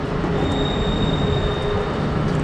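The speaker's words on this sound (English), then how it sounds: "The MAX train went across the Willamette River" A Portland MAX light rail train crossing a bridge over the Willamette River, a steady loud rumble with a faint high squeal running through, heard close and continuously.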